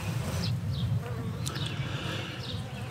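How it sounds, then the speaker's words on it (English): Honey bees buzzing close by around a colony, a dense continuous hum with individual bees whining past, steady throughout. "these bees have been in here for a week and a half, maybe 2 weeks now"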